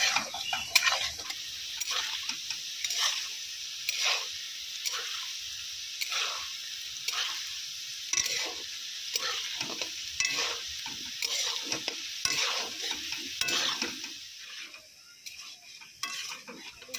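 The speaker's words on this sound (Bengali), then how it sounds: "এবার চৌকো চৌকো করে আলু ভাজা করছি" Diced potatoes fry in a pan with a steady sizzle, broken by repeated stirring scrapes at a regular rhythm, close and fairly loud with no voices.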